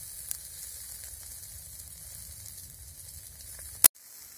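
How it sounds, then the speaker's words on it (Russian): Pork fat sizzles on potato skewers over a forest campfire, a steady close crackling hiss throughout with a brief loud pop near the end before sudden quiet. "О, сальцо жарится, дает сок."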